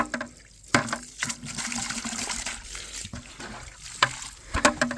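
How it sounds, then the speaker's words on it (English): Water splashes and sloshes inside a bucket as it is rinsed out on a pig farm, uneven bursts of swishing liquid with sharp knocks and clanks, close and fairly loud. "Wash this bucket here out."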